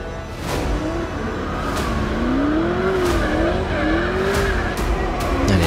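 A BMW E30 drift car on track, tires screeching in a long wavering squeal over a loud straining engine, with sharp crackles and pops cutting through, close and continuous.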